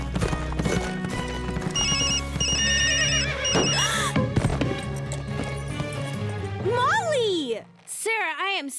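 A loud cell phone ringtone in a cartoon, with a bright melodic electronic chime and whinnying horse-like effects over a busy soundtrack of hoofbeats, ending in swooping squeals; voices talk alongside it.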